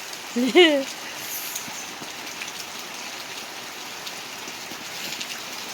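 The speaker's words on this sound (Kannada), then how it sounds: "ಭಯಂಕರ ಗಾಳಿ ಬರ್ಸ" Heavy rain with strong wind at a house with a garden, a soft steady wash of falling water throughout, with a short burst of voice near the start.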